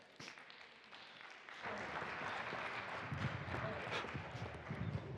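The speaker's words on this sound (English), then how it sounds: "Can I have the most rousing end of day RFF 25 round of applause, please?" An audience at a sustainability-in-real-estate conference applauds at the end of a day session, with a thin patter at first and then dense, steady clapping that swells and holds to the end.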